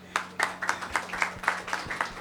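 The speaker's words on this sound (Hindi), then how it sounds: "भाई लोग बहना के लिए ताली बजाएंगे।" Congregation clapping during a Hindi church sermon, a run of about ten sharp, evenly spaced hand claps in a steady rhythm, moderately close over a low hum.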